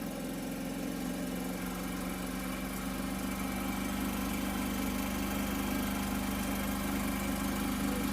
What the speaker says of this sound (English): Go ahead and give it a little throttle.